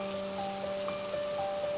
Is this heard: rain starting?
yes